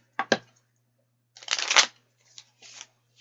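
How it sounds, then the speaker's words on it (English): A deck of cards is shuffled in several quick close bursts, short riffling flutters separated by brief silences. "shuffle these cards like a pro"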